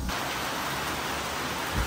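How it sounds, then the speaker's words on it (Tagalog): Heavy rain pours down on a farm in the Philippines in a steady, dense roar of hiss that fills the whole scene, with no voices. "Grabe yung ulan, no? Grabe ang lakas talaga."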